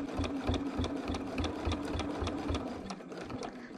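A sewing machine stitches quilt sashing held with basting tape, a steady close rapid needle rhythm running throughout without pause.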